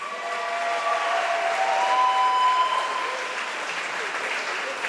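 A gym crowd at a high school wrestling senior night applauds the Maroon Devil senior class, a steady wash of clapping with a whistle-like tone riding over it.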